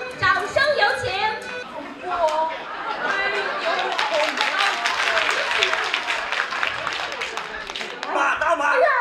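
Applause from an award ceremony crowd as winning organizations come up to accept their awards, steady clapping mixed with crowd chatter and talk throughout.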